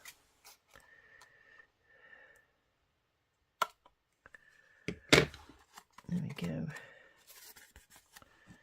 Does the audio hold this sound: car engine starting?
no